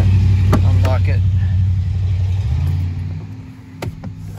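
A Jaguar or Land Rover engine starts up with a misfire: a loud close rumble with uneven clattering pulses that settles into a lower idle, followed by a couple of sharp clicks.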